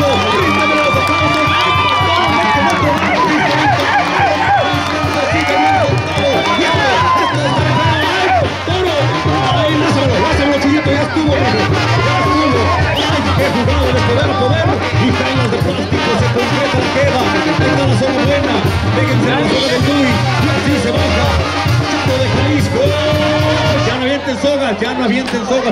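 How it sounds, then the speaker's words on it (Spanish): A crowd at a professional jaripeo rodeo at Rancho Imperial cheers and shouts loudly and continuously, a dense roar of many voices mixed with an announcer's talk throughout. "¡Ríndeme los aplausos!"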